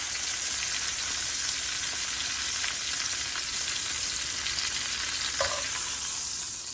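A ribeye steak sears and is basted in a hot pan, giving off a dense, constant sizzle like heavy rain, loud and close, with one faint clink partway through and no talking.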